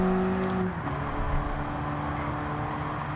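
The engine note of a 2008 Fiat 500 lapping the Nürburgring in Gran Turismo 7, a steady mid-revving drone with a brief pitch shift early on, no voices.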